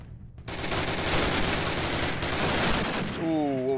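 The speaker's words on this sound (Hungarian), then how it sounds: "Íj, közben Szotyi egy kicsit mellé lőtt, de se baj" Rapid, dense gunfire from the multiplayer shooter Call of Duty 1 during a tournament grand final, a continuous burst of shots under a faint voice, ending with a rising electronic tone.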